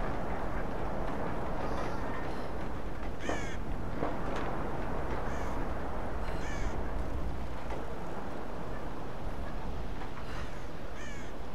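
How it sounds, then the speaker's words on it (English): Crows caw in the ambient soundscape of Shantytown in the video game Tomb Raider Definitive Edition, scattered calls at a middle distance over a steady rushing background, with no voices. "I can hear the birds in the background."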